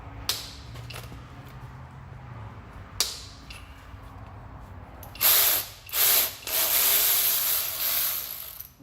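A ratchet loosening a bolt on a transmission line of a 2WD Ford F-150 with a 3.5 EcoBoost engine, a few isolated clicks followed by a run of fast, loud ratcheting strokes up close.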